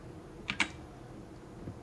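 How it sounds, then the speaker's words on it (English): A computer keyboard gives two quick, faint key clicks close together against a quiet room hiss, followed by a soft thump. "after I'm clicking and holding that down on my keyboard"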